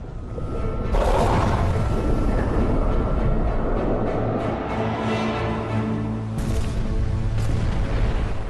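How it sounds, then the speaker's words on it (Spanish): Torpedoes fired from a submarine in the Atlantic: deep booming rumbles and low explosive blasts roll through a sustained roar, with sharp onsets near the start and again later, loud and close. "Lanza un bombardeo de 5 torpedos. Torpedo 1, fuego."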